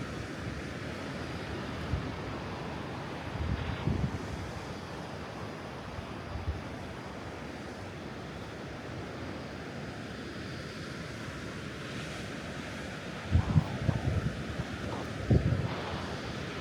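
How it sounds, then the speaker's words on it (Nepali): Cold wind buffeting at a coastal lookout above the ocean, a steady rushing roar with low surf rumble and a few louder gusts, no voices. "चिसो चिसो हावा चलिसक्यो समुद्रले गर्दा"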